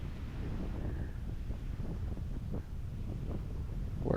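Wind buffets the microphone on a beach at Torrey Pines during hang gliding, a steady, loud low roar with gusty fluctuations and no voices.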